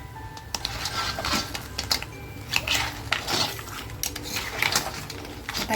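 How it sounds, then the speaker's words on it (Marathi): Crab curry masala fries in oil in a pot, heard as clinking metal spoon scrapes and taps against the pot over a low continuous background, close and repeated without speech. "आपला मसाला तेलामध्ये छान फ्राय झाला आहे"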